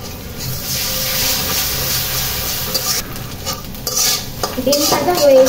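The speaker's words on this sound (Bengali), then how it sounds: "ডিম ভাজা হয়ে গেছে, ডিম ভাজছে" Eggs fry in a pan under a close, steady sizzle while a utensil stirs and scrapes. Sharper metallic clinks and knocks against the pan grow busier toward the end.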